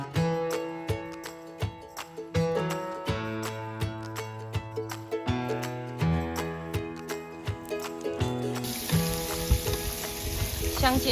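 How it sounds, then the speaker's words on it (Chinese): Duck meat pan-fries with a continuous sizzle beneath steady tonal music, and the frying turns louder and hissier near the end; no voices are heard. "香煎鸭肉。"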